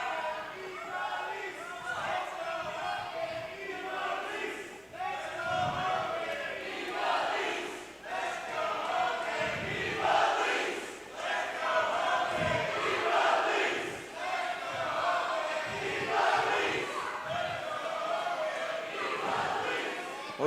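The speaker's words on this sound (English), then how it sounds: "Dueling chants once again tonight. Crowd split on this one." A split crowd at a women's wrestling show trades dueling chants, rising and falling in a rhythmic back-and-forth roar across the arena for the whole stretch.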